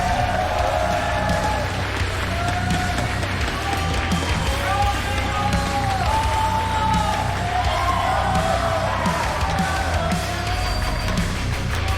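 An arena crowd at a Rainbow Six esports match in Las Vegas yells and cheers continuously with whoops and rising shouts, while an announcer's voice carries over the loud, dense roar.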